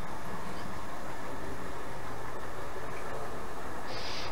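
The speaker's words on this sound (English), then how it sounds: "Camera train's coming down." A model railway camera train runs along the track at a layout, giving a steady, close rolling rumble and hiss that carries on throughout with no talk over it.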